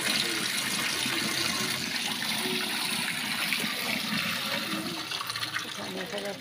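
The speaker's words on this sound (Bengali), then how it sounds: "এখন থালা বাসন ধোবো, জল খুলে গেছে।" Tap water runs steadily into a kitchen sink for washing dishes after lunch, a dense continuous hiss and splash close by that eases slightly toward the end.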